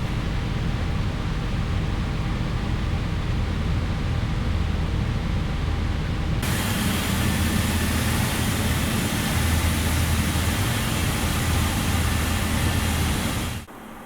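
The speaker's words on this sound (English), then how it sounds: "As engine number 2 now comes over, we'll go for engine number 1." Twin jet engines of a Boeing 777-200 in the X-Plane 11 flight simulator spool up, a dense broadband roar that swells partway through and holds steady before cutting off near the end, with no talk.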